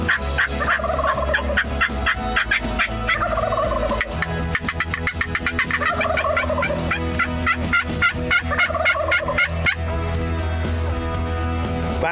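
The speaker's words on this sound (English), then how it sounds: "I gobble at him." Wild turkey in Nebraska gobbling in repeated rapid bursts, loud and close, answering back and forth across the field during a spring hunt.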